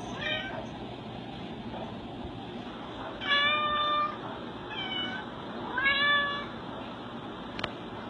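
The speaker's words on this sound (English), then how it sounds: "She literally will meow until she gets her food." A shelter cat meows insistently for food, with several drawn-out meows at moderate distance over a steady background hum and no speech.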